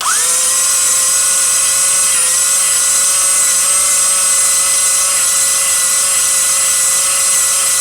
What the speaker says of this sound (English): The drill is slow revving and we'll get a nice even finish.